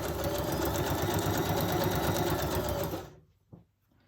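A sewing machine runs steadily, stitching through paper for a craft project with a close, continuous mechanical whir for about three seconds before stopping abruptly, followed by a brief soft click.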